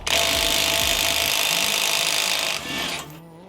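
A ProCraft Industrial IW550A impact wrench on its third mode, rated 300 Nm, loosens a nut with a loud, steady whirring hammer for about two and a half seconds. It then drops to a brief lower spin before stopping.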